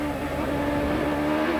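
An Indy race car engine roars steadily on track at the 1999 Texaco/Havoline 200, a sustained buzzing drone heading up a hill into a turn, loud and constant throughout the brief moment.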